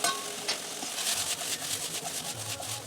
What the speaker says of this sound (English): Keep on stirring this very well.